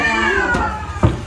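A pet cat meows twice in a short burst at a home birthday gathering, its cries rising over steady background chatter and noise from people nearby.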